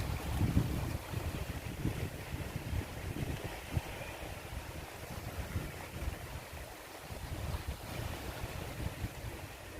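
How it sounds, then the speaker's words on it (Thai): Sea waves wash and rumble continuously against a mountainous shore while wind buffets the microphone, making a loud, steady roar with no voices. "เสียงคลื่นเสียงลม"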